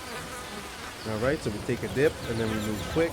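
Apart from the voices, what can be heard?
bees buzzing in the video game Ancestors: The Humankind Odyssey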